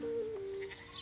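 Cartoon sheep gives a single drawn-out bleat, a steady tone sliding slightly downward, with faint background sounds after it fades.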